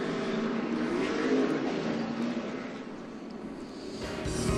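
NASCAR Sprint Cup stock cars at California roar off pit road in a steady, loud engine drone with a sustained rising pitch, no talk over it.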